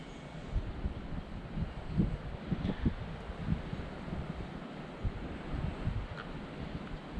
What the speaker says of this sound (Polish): Ale wiatr duży jest